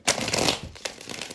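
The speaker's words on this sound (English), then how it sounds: "And last shuffle." Deck of playing cards shuffled once up close, a quick riffling flutter of cards snapping together, then a few softer ruffles, with no talking.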